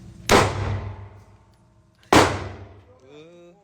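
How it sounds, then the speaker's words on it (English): Two sharp, loud pistol shots from a Glock 17 Gen 5 at a shooting range, spaced about two seconds apart, each with a ringing decay. A voice briefly follows the second shot. "You ain't shooting at nothing."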